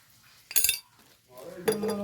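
A metal spoon scrapes and clinks twice against a pan while chilli and black pepper powder are stirred in for a bitter gourd and prawn stir-fry, two short close clatters separated by quiet.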